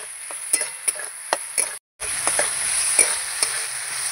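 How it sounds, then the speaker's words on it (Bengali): Spices with asafoetida are stirred in a hot frying pan, a close sizzle punctuated by sharp spatula clicks and scrapes at an uneven pace, with a brief silent gap midway. "হিংটা দিয়ে এবার ভালো করে একটু নাড়াচাড়া করে নেব"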